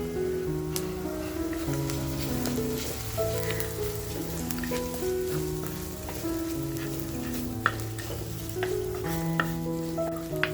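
Crushed ginger and garlic fry with browned onions over medium heat for dhaba-style mutton kheema, a constant close sizzle with stirring scrapes, under tuneful background music.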